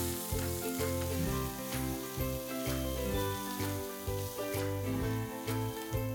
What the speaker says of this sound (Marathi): नारळाचं तेल गरम झाल्यावर आपण त्यात एक मध्यम कांदा बारीक चिरून गुलाबी होईपर्यंत